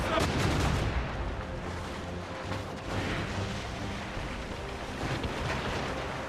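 Cannon fire and gunshots in a naval battle in Assassin's Creed Rogue, dense and continuous with repeated heavy blasts over a roaring, wind-like background, and shouting voices mixed in.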